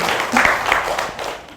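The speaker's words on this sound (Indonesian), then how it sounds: "kalau tidak ada tepuk tangan untuk kelompok 4" Classroom applause for a student presentation group, a short burst of moderate clapping from a small group of students, fairly close and brief.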